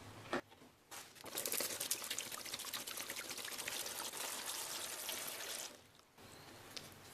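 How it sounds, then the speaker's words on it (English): Water is poured onto ice inside a fan air cooler, a steady close splashing pour with crackling ice that starts after a couple of brief clinks and stops abruptly near the end. "And now we're gonna add the water"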